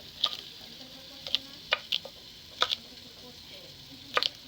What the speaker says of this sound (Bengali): আর এখানে আমার বাবা পেঁয়াজ পাতা কাটছে, সাউন্ড শুনে।